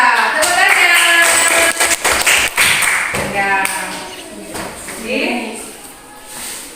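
A classroom group claps together amid lively chatter, the quick overlapping hand claps and taps coming close and loud before fading under voices as the room settles.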